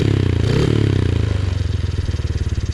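A Honda CRF50 motorcycle fitted with an 88cc big bore kit runs close by, its small engine putting out a loud, steady, rapid single-cylinder putter with a slight clattery rattle.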